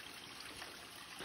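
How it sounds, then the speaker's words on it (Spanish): Spring water emerges between rocks, a steady, faint close trickling and babbling flow without pause. "aquí nace el agua"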